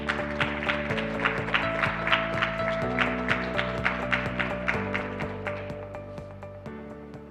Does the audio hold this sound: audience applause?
yes